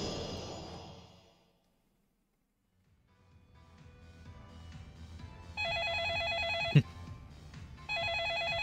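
An electronic telephone ring from Yakuza Kiwami sounds in repeated bursts over a low game soundscape, preceded by a fading musical tone and a short silence.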